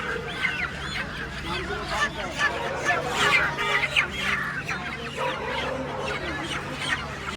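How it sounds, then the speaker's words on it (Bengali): Sonali chickens cluck and squawk in a dense, continuous chorus as they are loaded at a busy wholesale poultry market in Kolkata, with fowl calls overlapping throughout and faint talk underneath. "এখানে লোড হচ্ছে সোনালি মুরগি"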